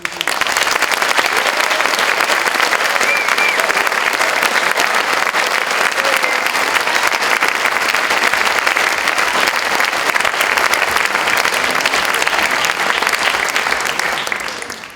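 A school audience at a space evening gives a long, loud, continuous round of applause, dense and unbroken clapping filling the room for fifteen seconds before fading at the very end.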